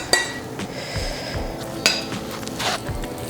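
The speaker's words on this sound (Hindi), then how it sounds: "मिक्स कर दें।" Curry with pakora being stirred in a pot, spoon scraping and clinking against the metal in several sharp knocks over a faint sizzle, close by and without talk.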